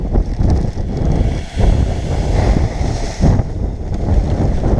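Strong wind blows across an open farm field during seeding work, roaring loudly and buffeting the microphone in uneven gusts with short lulls, no voices.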